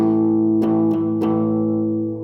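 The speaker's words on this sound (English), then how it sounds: "And so if I play this power chord," A clean, unprocessed electric guitar power chord rings out loud and sustained, with a few light pick or string noises partway through, then slowly fades.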